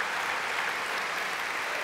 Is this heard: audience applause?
yes